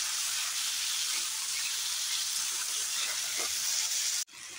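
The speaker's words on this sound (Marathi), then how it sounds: "एक कच्चा बटाटा, तो चांगला ह्याच्यात तेलात फ्राय करून घेऊया" Thin slices of raw potato fry in oil with a loud, steady, close-up sizzle that runs unbroken and then cuts off abruptly just before the end.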